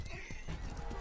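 A horse in the medieval combat video game Mordhau whinnies over rapid clip-clop hoofbeats of galloping, loud and close, with battle noise around it.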